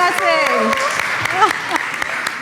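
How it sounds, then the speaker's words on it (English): Applause from a crowd, steady clapping that fills the space, with a voice speaking over it. "Let's give a round of applause"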